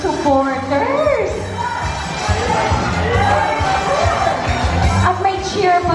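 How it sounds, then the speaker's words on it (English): Supporters at a press launch cheer and whoop as a crowd, a steady lively roar with higher shouts on top, while a host talks over it. "At may cheer pa talaga"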